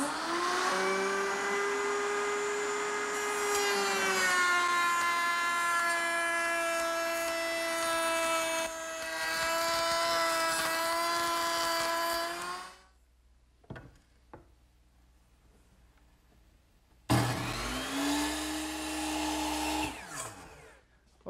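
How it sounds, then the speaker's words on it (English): A router table shapes a wood molding profile for a hutch, with a high, steady motor whine that spins up and holds before cutting out into quiet, then starts up again briefly. "I'm going to use the same cutter that I used to make this edge on the top. I've got it set up in my router table and it's ready to go."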